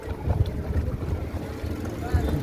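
A wooden shikara glides across Dal Lake with a steady, close wash of water and breezy wind noise across the microphone, with a low rumble throughout.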